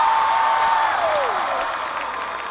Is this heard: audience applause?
yes